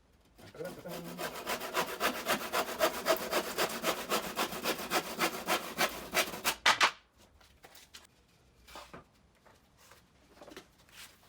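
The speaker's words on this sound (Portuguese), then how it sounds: "E venho com o serrote para serrar." Handsaw cutting through wood during instrument building in a luthier's workshop, a steady rhythmic series of rasping back-and-forth strokes for about six seconds, then stopping, followed by faint knocks and handling sounds.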